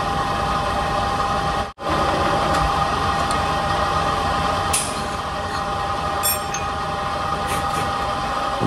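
Valve pockets being machined into Cosworth pistons, a steady high whining machine drone with a sharp brief break near the start and scattered light metallic ticks, with no voices.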